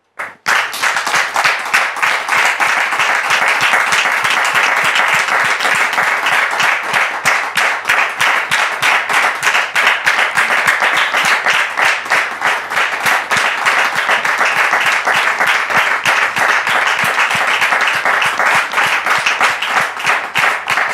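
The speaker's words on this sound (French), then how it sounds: "recevoir les invités d'Annick sous vos applaudissements," A French television studio audience applauds steadily and loudly for about twenty seconds, a dense continuous wash of clapping with no speech over it.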